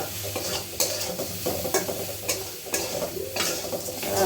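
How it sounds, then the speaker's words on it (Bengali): Ingredients for chire pulao fry in a pan with a continuous close sizzle. Rhythmic spatula strokes scrape and stir roughly every half second, and no voices are present. "ভালো করে ভাজছি"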